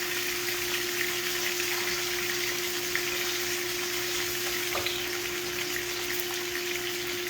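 Pork chops with fresh rosemary, thyme and basil fry in a large skillet, making a soft, even sizzle that goes on steadily with a faint background hum. It stays quiet and constant throughout, with no talking.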